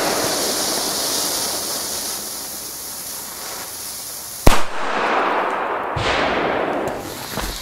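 A Donnerschlag firecracker goes off with one sharp, loud bang partway through, followed moments later by a second heavy thump and a hissing tail over a noisy rushing background.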